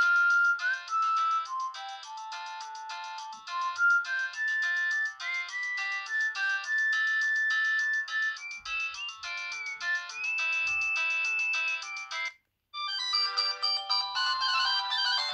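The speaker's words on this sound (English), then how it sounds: "The first one you come to, that's the ringtone you're actually using." A Doro Handleplus 324GSM mobile phone plays a series of electronic melody ringtones, loud and close. A long tune is followed by a short pause, then a new, busier tune begins.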